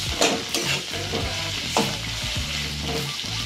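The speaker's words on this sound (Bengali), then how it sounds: "হলুদ, জিরে, ধনে এবং টমেটো দিয়ে আমরা ভালো করে কষিয়ে নেব" Turmeric, cumin, coriander and tomato sauté in a pan with a steady loud sizzle, broken by several sharp scrapes and clanks of a stirring utensil. No one speaks.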